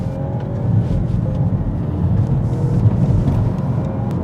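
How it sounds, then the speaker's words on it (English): A Volvo S90 with a 250 horsepower engine pulls hard under acceleration, a steady low engine drone heard from inside the cabin, holding fairly even and slightly building across the run. "when you put your foot down, I kid you not, this Volvo really knows how to go."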